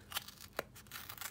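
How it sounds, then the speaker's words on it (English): Scissors snipping through a paper sheet during a paper cannon craft, close and quiet: a few short separate cuts with soft rustling of paper between them, no voices. "using scissors again."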